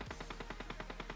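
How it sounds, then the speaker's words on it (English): Beryl M762 assault rifle firing full-auto in PUBG at a vehicle: a quick, evenly spaced burst of about ten shots, faint and heard alone. "so now let's check with M762 gun."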